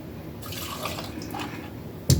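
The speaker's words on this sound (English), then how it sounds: "I'm gonna just do 2 ounces tequila" Tequila poured over ice into a glass for a margarita, a soft, brief close trickle of liquid ending in a sharper clink.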